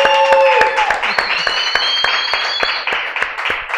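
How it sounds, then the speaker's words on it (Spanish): Studio audience applause on a Spanish-language entertainment show, a bright continuous spread of clapping with sharper individual claps standing out, cheering and whistle-like tones rising over it, fairly loud and close. "Un aplauso, muchachos, para los compadres."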